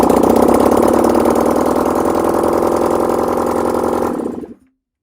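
A Honda VFR400 NC30 motorcycle engine under restoration, freshly cleaned carburettors, idling loud and steady close by before cutting out abruptly near the end.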